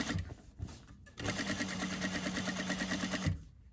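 A sewing machine understitches fabric, likely a lining, in a quick steady run of even needle strokes held close for about two seconds, with softer handling noises before and after.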